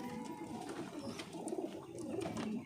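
Several pigeons cooing continuously in low, throaty warbling phrases that overlap, near and quiet, with no talking.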